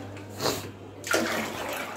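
Leftover water poured out of a bucket, a close splashing gush that briefly pauses and then pours again with a broad rushing wash.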